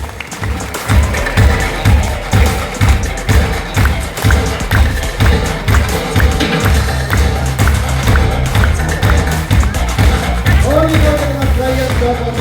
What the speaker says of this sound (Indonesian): yuk berikan tepuk tangan berirama